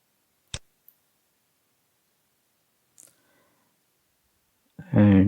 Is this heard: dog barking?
no